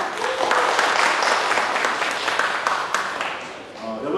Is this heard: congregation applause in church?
yes